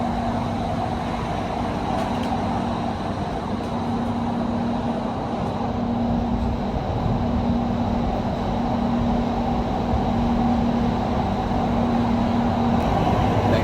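Continuous low rumble and rattle of a Qatar metro train in motion heard from inside the rear carriage, with a steady electric whine running throughout.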